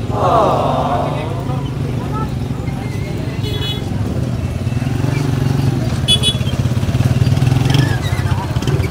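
Vehicles passing through a crowded livestock market with goats and pigs, a steady rumble of engines and motorbikes with chatter and talk throughout.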